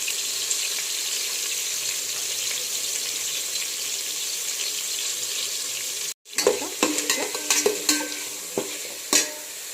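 Bay leaves and whole biryani spices frying in hot oil, a steady close sizzle that cuts off, then resumes with sharp scraping and stirring clinks.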